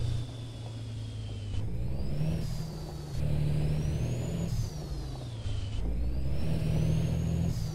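A Peterbilt 389 glider truck in American Truck Simulator, its engine droning steadily as the pitch rises and falls through gear changes, with a whining tone over the rumble.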